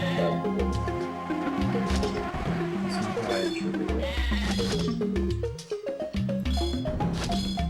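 Repeated electronic-sounding sheep bleats from the Game Boy Advance game Tak and the Power of Juju ring out over busy, bouncy game music, several calls in quick succession.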